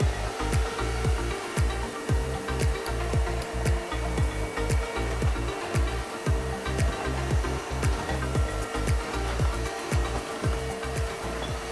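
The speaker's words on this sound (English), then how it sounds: "I do nothing but just vacuum it with the Aspiron Wet&Dry vac" An Aspiron Wet&Dry upright cordless vacuum sucks chicken noodle soup and soapy water off a floor, a constant loud motor whine broken by repeated rhythmic gurgling slurps.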